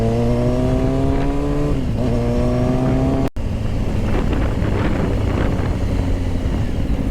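A motorcycle engine heard while riding, droning loud and close under heavy wind rush, revving up then dipping at a shift, then continuing as a rough, noisier roar.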